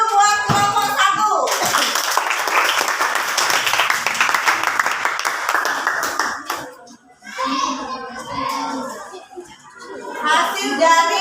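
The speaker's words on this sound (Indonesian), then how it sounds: "Tepuk tangan dulu buat kelompok 1" A classroom of children claps for a group of students, a dense burst of applause that fades out, with children's voices and chatter before and after.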